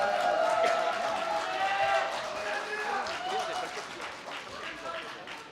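Audience applause greeting three candidates as they enter a Gwangju party open-interview screening event, a broad wash of clapping with a voice speaking over it throughout.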